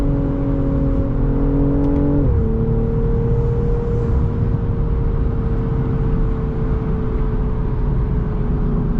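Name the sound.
BMW M340i engine after a downshift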